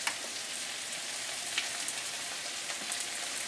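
Stir-fry sauce added to a hot pan of bok choy and shiitake mushrooms in oil, giving a steady, bright hiss and sizzle with faint crackles all the way through, and no talking.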